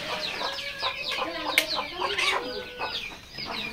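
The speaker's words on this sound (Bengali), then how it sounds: "তো এখানে বেশ কিছু নিউ অ্যাডাল মুরগি রয়েছে, লেয়ার, দেশি, ফার্মি মিশরি।" Fayoumi Misri chickens cluck and chatter together on a poultry farm, a dense, fairly close flock of overlapping calls throughout.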